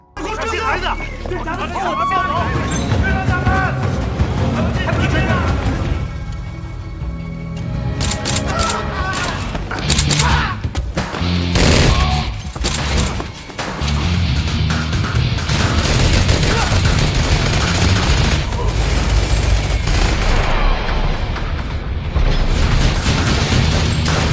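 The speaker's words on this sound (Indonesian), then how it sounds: "mereka pun bergegas pergi dari sana dan disusul dengan beberapa orang bersenjata yang mengakibatkan baku tembak" Rapid bursts of gunfire and explosions from an action film shootout between armed men fill the scene, loud and dense, with a narrating voice talking over the blasts throughout.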